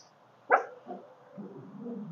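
A dog gives a single sharp bark, followed by softer whimpering and low grumbling sounds nearby in a quiet home.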